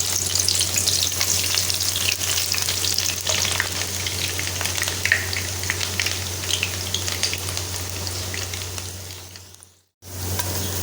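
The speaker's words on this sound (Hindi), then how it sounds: "घी गर्म हो चुका। अब हम इसमें डाल रहे हैं प्याज।" Onions sizzle and crackle loudly in hot ghee in a pan, giving a dense steady frying hiss that fades out and breaks off near the end before resuming briefly.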